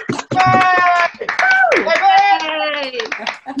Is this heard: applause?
yes